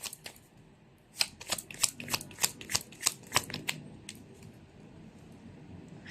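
Tarot cards riffled and shuffled in a burst of about ten crisp, close flutters over roughly two and a half seconds, then quiet room tone.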